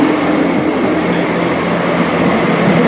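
Train unit 158821 at a railway station gives off a loud, steady, close rumble of engine and rail noise that holds unbroken throughout.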